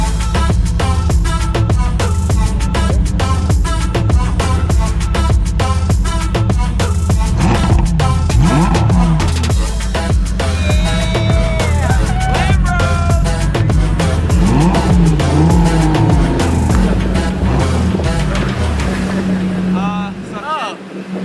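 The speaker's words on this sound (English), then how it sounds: "This is your Lambo, Lambro" A Lamborghini Huracan Evo Spyder convertible driving in Miami, its engine droning loud and close under heavy wind rush, rising and falling with the revs, while people talk over it.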